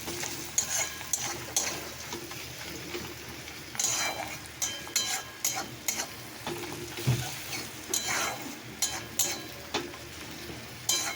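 Spices fry in a pan with salt as a fish curry base is cooked, giving a quiet, steady sizzle broken by repeated scraping stir strokes and light clinks of the utensil.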